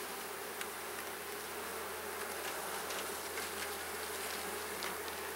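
Honey bees crowded in a nucleus hive during an inspection make a dense, continuous hum that stays loud and close throughout, with no talking.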